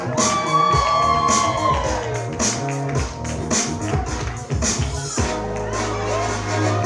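A wedding reception crowd cheers and shouts for a bridesmaid's entrance, loud whoops rising over pounding music throughout.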